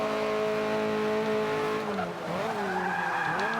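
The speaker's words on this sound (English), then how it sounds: "You can hear kind of the squealing of the tires as it turns" Tires squeal on a rear-wheel-drive, front-engine car under hard braking into a turn in Forza 5, a loud sustained screech over the engine note that bends and shifts pitch as the car slides.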